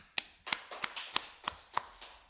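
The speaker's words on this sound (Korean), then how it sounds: "박수 한번 합시다." Seven sharp, evenly spaced claps ring out in a church congregation during a sermon, quiet and somewhat distant, each a crisp separate smack at a steady rhythm.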